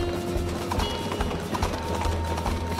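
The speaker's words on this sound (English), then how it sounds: "I hear a horse?" Horse hooves clip-clopping in the Princess Peach: Showtime! video game, a quick steady run of hoofbeats over background game music, with no voices.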